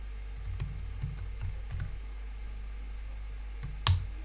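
Fingers tap on a computer keyboard in a quiet room, with a run of soft, close clicks, a brief pause, then a sharper keystroke near the end.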